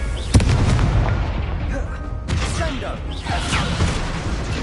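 Confringo explosion spell in Hogwarts Legacy, with a sharp blast followed by rumbling bursts and crackling pops over busy combat noise, a voice faintly under it.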